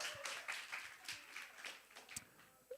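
A middle-school youth congregation claps in scattered, uneven bursts, fairly quiet and somewhat distant, with individual claps standing out and a brief vocal sound near the end.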